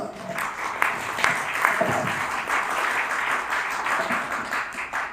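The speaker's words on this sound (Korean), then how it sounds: "영광의 박수 드리겠습니다" A church congregation gives a round of applause after a closing prayer in a Korean sermon, sustained even clapping from many hands lasting several seconds, with a few voices faintly underneath.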